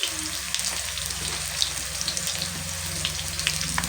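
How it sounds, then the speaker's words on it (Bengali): Pabda fish frying lightly with salt in a pan, a soft continuous sizzle with small crackling pops, moderately quiet and close, with no voices over it. "একটু লবণ দিয়ে হালকা করে লাল লাল করে একটু ভেজে নেব।"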